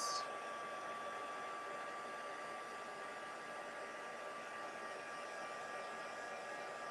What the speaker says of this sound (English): I'm just going to hit it with the heat tool just to dry it off a little bit.